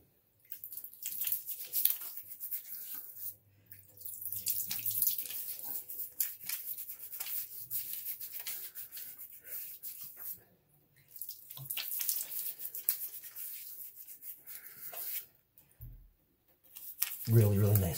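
Water from a tap scooped and splashed onto a face before a wet shave, bursts of hissy splashing and dripping near the sink that come in uneven waves with brief quiet gaps between them.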